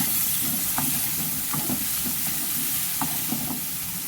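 Onions frying in hot oil in a pan for a chicken and ivy gourd curry, a steady close sizzle and hiss with occasional stirring clicks, no voices.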